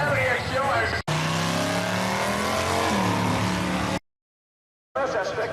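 A Mazda drag racing car on a dragstrip at St-Élie, its engine roaring loud and close with rising revs, a brief cut near one second and a second of silence before the engine noise returns, with talk faintly mixed in.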